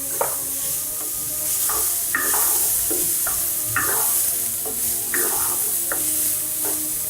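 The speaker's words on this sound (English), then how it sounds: "To the onions, I'm going to add in some diced carrot." Diced carrot hits a pan of frying onions with a steady bright sizzle, while a utensil scrapes and stirs in short repeated strokes throughout, close and alone without talk, for a Moroccan beef tagine.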